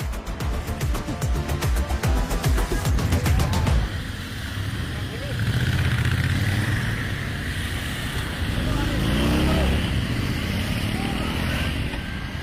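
A used Royal Enfield Interceptor 650 rides along an Indian road, a steady engine drone with rushing wind noise, preceded by a rapid, pulsing burble at the start.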